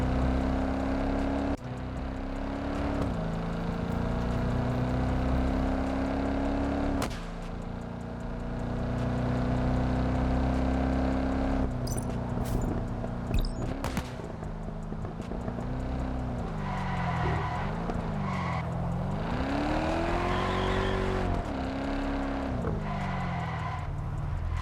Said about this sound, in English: Listen to this car sound.